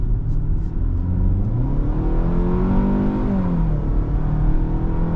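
A 2024 Hyundai Tucson in sport mode accelerating on the highway, its engine note rising steadily in pitch with a loud, continuous drone heard from inside the cabin.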